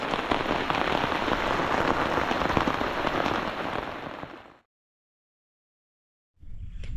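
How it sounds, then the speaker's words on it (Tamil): Heavy rain pours down outdoors among palmyra palm trees as a dense, loud, steady hiss for about four and a half seconds, then cuts off into silence before resuming near the end. "நாங்கள் மரத்தில் நிற்கும் போதே மழை வந்துருச்சு."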